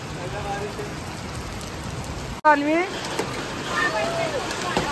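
Heavy hailstorm rain with strong wind patters steadily on a surface, continuous, with a sharp knock midway and a voice briefly talking over it.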